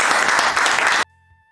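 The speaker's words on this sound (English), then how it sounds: "So can we say thank you so much to both of them and give them a round of applause?" Applause from a symposium audience at an education session. A dense burst of clapping lasts about a second, then cuts off abruptly into near silence with a faint electronic hum.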